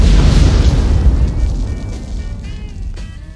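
A deep, heavy explosion follows a fire-in-the-hole warning in a Vietnam War setting. It starts loud with a low rumble and then rolls away and fades over a few seconds.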